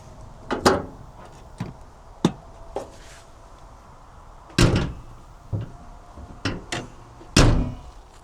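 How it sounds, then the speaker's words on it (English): Repeated heavy slams and thunks of the bonnet on a 2020 Honda N Box Custom G EX turbo kei car, about eight sharp close impacts at irregular intervals with a quiet pause between them, and no voices. "I feel like I should mention the slamming of the bonnet."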